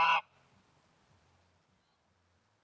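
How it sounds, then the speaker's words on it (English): A resident goose at a campsite gives a single short, loud honk at the very start, followed by quiet background. "Oh, and of course, a resident goose."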